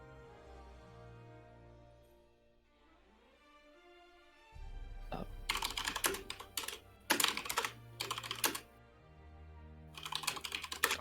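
Typing on a computer keyboard during a Tetris tournament stream: quiet at first, then bursts of rapid, close key clatter in several separate runs over a low background hum, with no talking.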